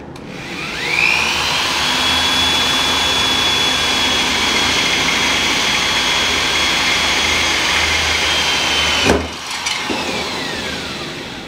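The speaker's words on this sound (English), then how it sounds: "when you drill through the bottom side" A drill boring through a DK2 cargo carrier with a 7/32 bit: a loud, steady high whine holds close for about nine seconds, then breaks off with a sharp spike as the bit punches through, followed by a brief winding down.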